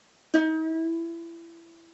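A single ukulele note plucked downward with the thumb rings out after a short silence, its pitch held as it slowly fades; quiet and close.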